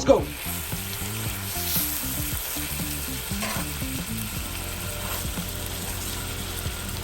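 A filet mignon steak fries in olive oil and butter, giving a steady close sizzle and crackle throughout with a sharp burst at the start, beneath a faint low tonal hum and occasional clinks.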